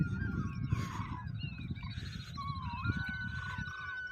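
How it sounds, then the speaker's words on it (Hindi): A large flock of birds passes overhead on the Narmada riverside, with repeated whistling and honking calls overlapping above a low, rumbling background throughout. "बड़ी संख्या में पक्षियों का झुंड जा रहा है"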